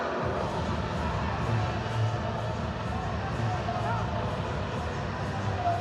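A large stadium crowd at Bank of America Stadium during a Savannah Bananas versus Party Animals Banana Ball game makes a steady, dense roar of noise throughout, with no clear breaks or peaks.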